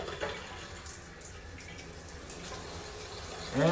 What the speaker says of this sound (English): So we'll go ahead and test the shower.